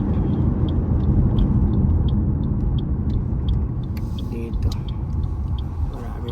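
A car drives along the road, a steady low engine and tyre rumble close by, with faint higher clicks above it and people talking at times.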